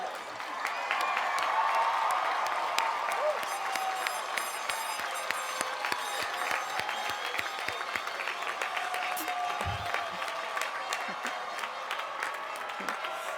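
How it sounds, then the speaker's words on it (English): A large crowd applauds graduates at a College of Business Administration commencement ceremony. Steady, sustained clapping with some cheering fills the hall at a moderate distance, and voices mix in. "Let's have a big round of applause for all our graduates."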